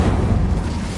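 An Incendio fire spell roars in a Harry Potter video game, a loud, dense, low whoosh of flame that lasts about a second without a break.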